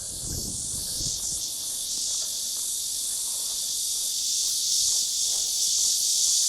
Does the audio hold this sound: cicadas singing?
yes